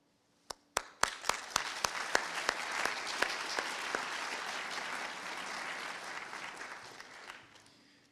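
An audience applauding at an award presentation: a few separate claps first, then a full burst of clapping that holds steady and fades toward the end.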